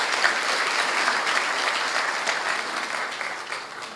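Steady applause from the crowd at the ATEPA 2019 presidential investiture as Fatoumata Ndiaye is introduced to read the manifesto, dense and continuous throughout, fading slightly at the end.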